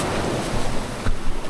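Waves wash onto a beach in a steady, broad roar, with a couple of swelling surges and some wind buffeting the microphone.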